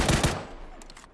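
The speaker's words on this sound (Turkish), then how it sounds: "Bir an panik yapıp yukarı sıkmışım" Short burst of rapid PUBG gunfire, loud and close, sprayed upward in a panic, fading into a few scattered trailing shots.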